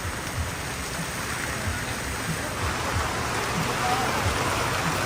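Heavy rain pours down steadily at an outdoor bonsai market with flooded stalls, a dense continuous hiss and patter close by for the whole stretch, with no voices.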